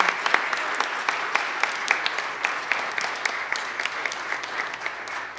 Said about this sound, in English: And a continued applause for Mrs. Fosnot for organizing this today.